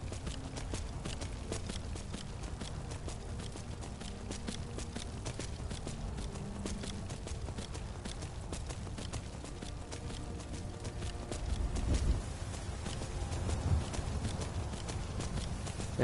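A summoned horse gallops in Skyrim, a rapid, steady clatter of hoofbeats close by that carries on unbroken, with a short surge of extra noise near the end.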